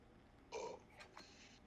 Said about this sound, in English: I've been having some spicy burps lately.